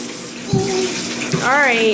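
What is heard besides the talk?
water running from bathtub tap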